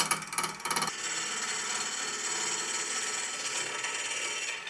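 Small ball gouge cutting timber turned between centres on a lathe, a continuous close scraping, rasping hiss that follows a few quick choppy bursts of contact, loud and steady with no voices.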